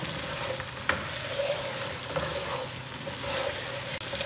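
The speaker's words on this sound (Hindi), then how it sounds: "मज़ीद इसे 1 से 2 मिनट करते हैं इसी ऑयल के अंदर फ्राई" Mutton pieces fry in oil with a continuous soft sizzle and occasional light clinks of a utensil against the pan, quiet and close, with no voices.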